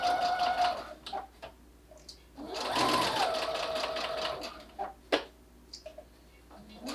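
A sewing machine stitches a line down the length of a cloth face cover, running over the elastic. The bursts of rapid mechanical stitching are loud and close, with short pauses between runs.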